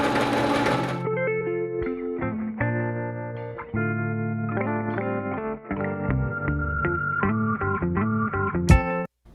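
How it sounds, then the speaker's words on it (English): A sewing machine stitches the hems of a fabric window shade in steady, whirring bursts of varying length with brief pauses between them, loud and close, ending on a sharp click. "I pinned each of the sides and the bottom with a 1-inch hem and sewed up the 3 hems"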